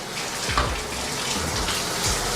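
Hot water runs steadily from a bathtub faucet, a continuous close splashing rush with no break and no talking.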